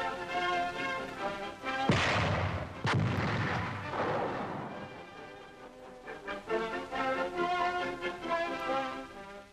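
Mortar fire, a chemical mortar launching phosphorus shells in a wartime training setting: two sharp, heavy blasts close together with a rumbling tail, set against continuous orchestral music.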